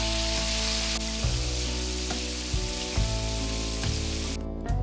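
Paneer pieces sizzle and fry steadily in hot oil in a kadai, a continuous crackling hiss with occasional soft stirring or shifting sounds.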